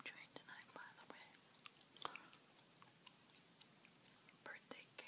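Close, quiet whispering mixes with sugar-free birthday cake flavored chewing gum being chewed, soft wet clicks and smacks popping up irregularly between breathy whispered words in an intimate ASMR setting.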